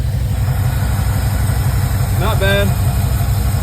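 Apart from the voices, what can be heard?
car engine idling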